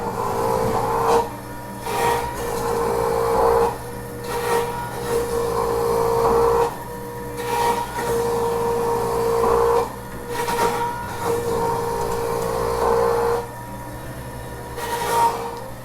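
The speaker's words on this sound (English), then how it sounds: "this is a grater and a press. So the vegetable and the fruit gets pressed after it gets grated up." A juicer with a grater and press shreds carrots for Gerson therapy juice, giving a steady mechanical grinding rasp in repeated bursts with short pauses between feeds, loud and close, with no talk.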